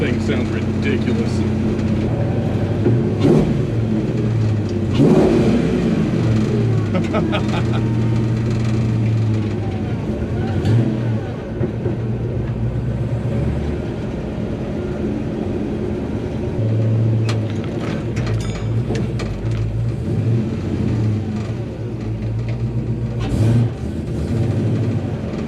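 A 1970 Dodge Coronet with a swapped 6.1 HEMI V8 rumbles and revs on its first drive, a loud, deep engine roar rising and falling continuously inside the car, with some talking over it.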